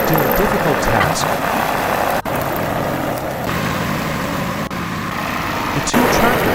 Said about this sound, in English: The two tractors make their way home.